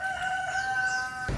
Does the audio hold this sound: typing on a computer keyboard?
no